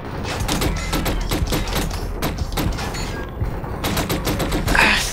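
Rapid automatic turret gunfire rattles in dense bursts from the sci-fi shooter Killzone Shadow Fall, loud and close, with brief pauses between volleys and a few heavy thumps.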